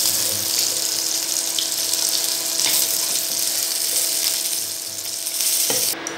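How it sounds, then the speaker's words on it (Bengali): Climbing perch fish frying in hot oil in a pan, giving a steady, dense sizzling hiss that holds throughout without pauses. "এবার আমি একে একে মাছগুলো ছেড়ে দিচ্ছি ভাজার জন্য।"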